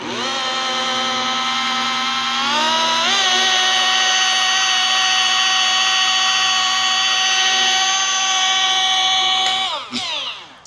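A rotary polisher with a foam pad works polish into a surface, its motor whining steadily and loudly, pitch lifting briefly as it speeds up before cutting off abruptly near the end.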